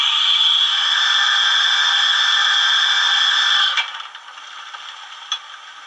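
Injector sound effect from a blue Märklin BR 01 model steam locomotive, item 39009: a steady, bright hiss holds for nearly four seconds, then cuts off, leaving faint small clicks and a single tick.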